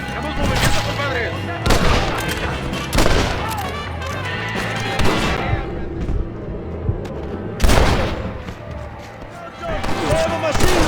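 Gunfire in Red Dead Redemption, several loud booming shots and bursts spaced irregularly among shouting voices and battle noise, close and heavy.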